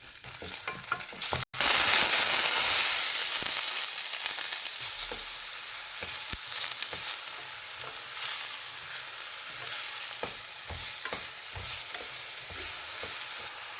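Finely chopped ginger hits a spoonful of hot ghee in a pressure cooker, bursting into a loud, steady sizzle with occasional soft stirring taps.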